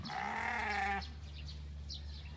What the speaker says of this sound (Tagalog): batang tupa o mga lamb